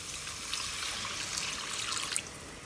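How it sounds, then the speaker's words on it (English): Water pours into a pan of chicken kofta curry with a steady hissing splash, close and continuous, with no talking. "And then goes in 300 ml of water."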